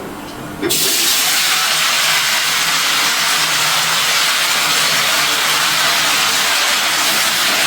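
Mixed vegetables, cut and washed beforehand, hit hot oil with tempering spices and erupt into a loud, steady broadband sizzle that starts abruptly after a moment of quiet and continues unbroken, close up and with no talk.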